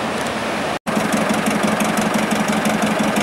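A tractor engine rumbles steadily and loud while hauling a fishing boat down the beach for a surf launch at Mpame, with an even throbbing pulse and one brief dropout near the start.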